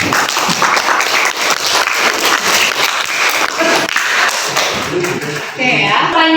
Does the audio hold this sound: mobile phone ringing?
no